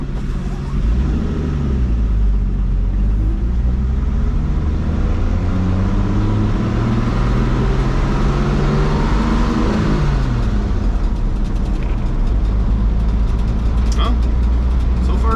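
A 1980 Dodge D100 pickup truck drives in low first gear, its engine droning loud and close throughout. The engine note rises and falls as it pulls along, with road and tire noise underneath.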